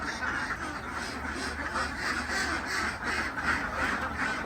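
Many egg-laying ducks quack continuously in a noisy chorus, steady and fairly close, with no talking, on a duck farm in Roi Et, Thailand.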